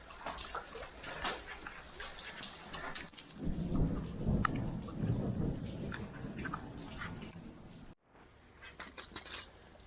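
Rain patters steadily on a farm garden while low rumbles of thunder roll through the middle, with a few scattered background noises; the sound briefly cuts out near the end.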